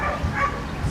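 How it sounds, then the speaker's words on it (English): A border collie at a dock-jumping championship gives short, close barks and yips, a few quick sounds in under a second over crowd and event noise. "we've got another border collie here"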